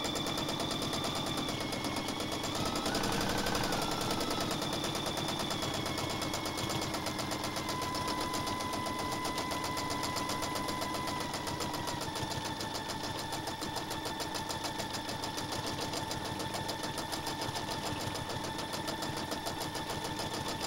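A Bernina sewing machine stitching free motion quilting on a baby quilt, a rapid steady mechanical chatter with a whining motor tone that shifts in pitch as the speed changes, running alone for about twenty seconds.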